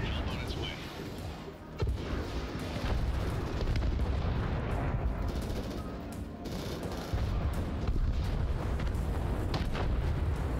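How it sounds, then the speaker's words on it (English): Continuous rumbling napalm strike explosions rage in the Crossfire: Legion strategy game, a dense, loud wall of booms and roaring fire with no pauses, and no talk over it. "Bloody napalm strikes, man."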